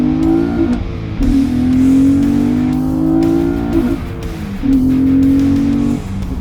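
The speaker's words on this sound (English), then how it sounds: "This car is entirely too much fun to drive" A car engine revs loudly and close, climbing and falling in pitch as it accelerates through the gears, with brief dips between pulls and no talk.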